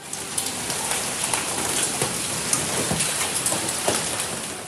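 Hailstorm pelting down in Islamabad, a dense, loud and steady roar of countless hailstones striking surfaces, with sharper individual impacts scattered throughout and no voices.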